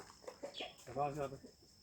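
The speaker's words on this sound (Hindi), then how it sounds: "तो इसमें मुर्गियाँ रखी हुई हैं।" Chickens clucking close by inside a mud-built coop in a village, a few short clucks followed by a longer drawn-out call, with faint talk in the background.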